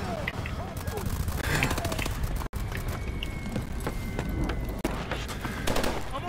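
EPM3 gun in Call of Duty Advanced Warfare, repeated single shots cracking amid busy in-game action, under a person talking.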